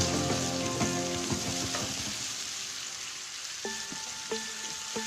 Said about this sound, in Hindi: प्याज को इतना फ्राई करना है कि इसका कलर जो है वो लाइट ब्राउन हो जाए